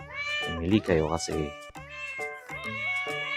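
Cats meow repeatedly, close and clear, in short drawn-out calls over a few seconds while a person speaks near them as cat grass is offered.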